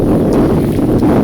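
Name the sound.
strong wind while kayaking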